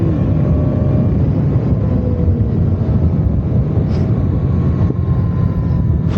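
A KTM Duke 200 motorcycle roars steadily at high revs, a loud, dense engine drone mixed with heavy wind rush that stays constant throughout without pauses.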